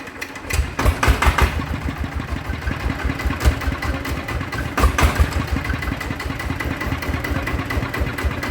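Blue Bird engine with a shaking, vibration fault, heard starting and then running with a rapid, uneven chugging throb and a few louder bursts early on, close and steady, with no talking.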